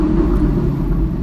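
A Ferrari 458 Italia's low, throaty engine rumbles steadily at close range, a deep continuous growl with no other sounds.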